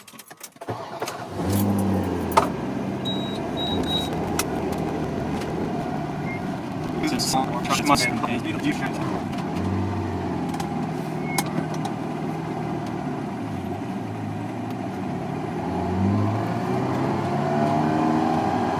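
A Ferrari 348 drives off and revs through first-to-second gear shifts, engine notes rising and falling in repeated sweeps, close and loud, with someone talking over parts of it.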